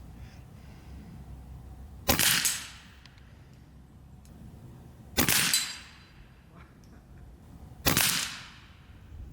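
Three sharp, loud shots from a Karma Airguns SLS .22 PCP match air rifle at a 35-yard competition, each a crisp crack with a short ringing tail, spaced a few seconds apart over a quiet outdoor background.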